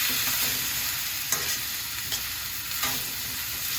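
Onion and spices such as turmeric, paprika and red chili powder fry in a pan with a steady sizzle, broken by a few soft stirring scrapes.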